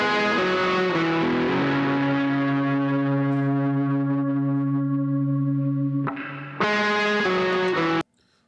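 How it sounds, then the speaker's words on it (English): A guitar recording drenched in reverb and a shimmer octave effect rings out in long sustained chords with a bright upper octave layer, pauses briefly, swells back for a final chord and then cuts off. "So that was recorded with a little bit of effects, like a little bit of reverb and some shimmer I can hear in there."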